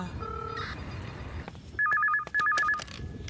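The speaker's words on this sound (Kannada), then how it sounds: "ನಂದು ಫೋನ್ ಮಾಡಿರ್ಬೇಕು." A telephone rings indoors, two short bursts of warbling electronic rings in quick succession, fairly clear over a low room background after some faint tones.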